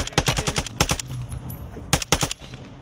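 Weapon fire in the video game Warzone 2: two clusters of rapid automatic shots, loud and close, separated by a quieter gap, with no talk over them.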